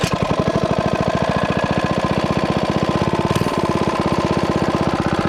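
Small motorcycle engine warming up after a valve adjustment, idling close and loud with a fast, even, thumping single-cylinder rhythm that runs steadily throughout.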